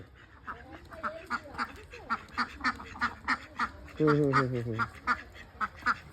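Two domestic ducks quack repeatedly in a village setting, a steady rhythmic series of close calls with a longer harsh burst midway.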